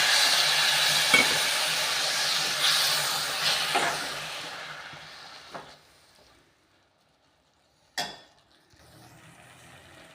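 Hissing sizzle of water hitting frying masala in a hot pan, loud at first and fading over several seconds, followed by silence and a short sharp burst of sizzling.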